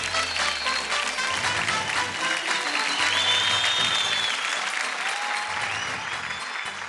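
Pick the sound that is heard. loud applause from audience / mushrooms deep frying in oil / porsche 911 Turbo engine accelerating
loud applause from audience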